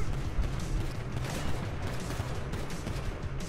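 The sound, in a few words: gunfire in video game Grand Theft Auto V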